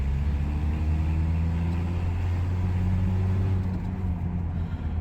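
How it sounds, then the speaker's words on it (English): Three-litre engine of a worn Mercedes W123 pulling steadily on the road, a deep continuous rumble with a low hum, heard from inside the car without voices. "Listen to the lovely sound of that 3 litre."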